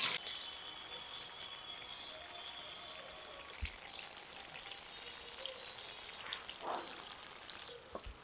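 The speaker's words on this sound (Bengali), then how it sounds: "এই যে খুন্তির উপরে গরম মশলার গুঁড়ো নিয়েছি, দিয়ে দিলাম, মিশিয়ে দিচ্ছি।" Spicy chicken curry with garam masala sizzles quietly in a pan, with soft scraping of the spatula and a few faint clinks, all at low level and with no talk.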